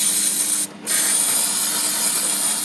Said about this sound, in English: I use it as a spray. So you get on here and I spray it.